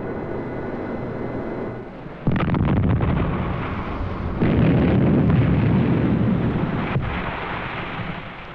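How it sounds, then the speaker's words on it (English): A missile strikes a destroyer in a live test from 56 kilometers away. A loud, sustained rumbling blast swells in two surges over a steady roar, heavy and distant with low booming texture. "This was the first live test against a destroyer. It was hit from a distance of 56 kilometers."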